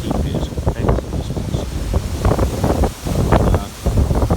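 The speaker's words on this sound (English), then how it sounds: "it's really, really windy out here" Strong wind buffets a microphone outdoors, producing a continuous low roar with surging gusts that swell and dip throughout, loud and close.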